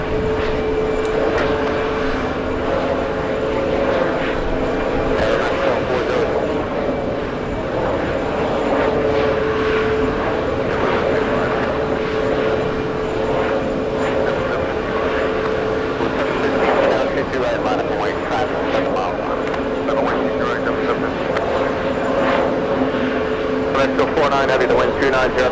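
A jet airplane taxis off the runway at JFK airport, its engines giving a steady, loud broadband roar throughout, with people talking over the engine noise.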